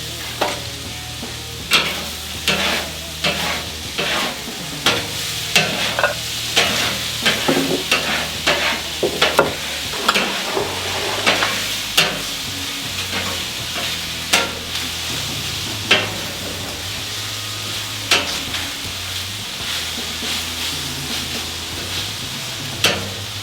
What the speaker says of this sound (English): I want to get that meat on a single layer to get those crispy edges on the meat.